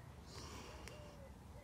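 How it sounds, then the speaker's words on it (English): A person takes one sharp nasal sniff of cucumber plant roots, a short snorting inhale up close against a quiet background. "So let's have a sniff."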